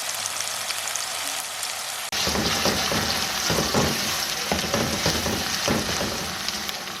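A large chopped onion hits a hot pan and bursts into loud, steady sizzling that fills the rest of the clip, close and continuous with crackly pops throughout.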